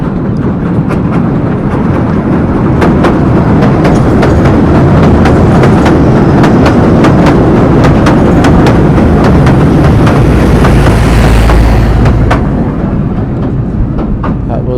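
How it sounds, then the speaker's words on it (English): A Southend Pier train, the William Haygate, passes close by with loud steady rumble and rhythmic clickety-clack of wheels over rail joints, wind buffeting the microphone throughout. "That was the William Haygate, one of the pier trains."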